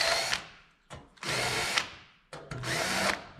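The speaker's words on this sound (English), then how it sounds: "we need to deburr all these holes" A power drill deburs freshly drilled holes in an exterior fender panel repair, running in three loud, close bursts separated by brief pauses.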